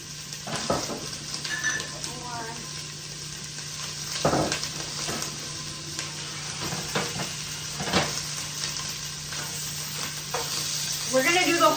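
Frozen Trader Joe's wontons fry in a tablespoon or two of oil in a pan, a steady loud sizzle with intermittent clinks and scrapes of a utensil moving them around, no voices.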